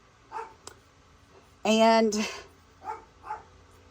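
A dog barks indoors in a home craft room: a loud, sharp burst of barking in the middle, with a few softer yips before and after, and speech nearby.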